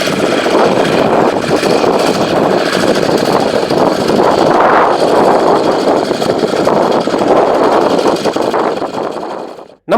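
A fishing boat's motor drones steadily and loudly as the boat comes in to shore after a night of line fishing, a continuous mid-low engine rumble that cuts off abruptly at the very end.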